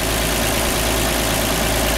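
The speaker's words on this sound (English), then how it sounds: "It's powered by a great running 6-cylinder, original engine" Original six-cylinder engine of a 1929 Chevrolet two-door sedan coach idling steadily, a continuous close, even low rumble with no talk.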